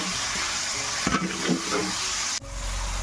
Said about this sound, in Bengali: মশলাটাকে কষিয়ে নেওয়ার জন্য পরিমাণ মতো জল দেবো।